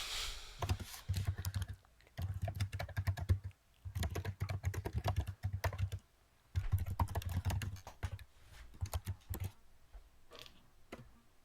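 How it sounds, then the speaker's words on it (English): Rapid typing on a computer keyboard, close and clear, coming in several bursts of dense key clicks separated by short pauses, with nothing else heard. "What are you typing up, Zach?"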